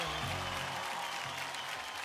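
Audience applause at a TV awards show, a steady, loud wash of clapping from a large crowd that fills the whole moment without pause.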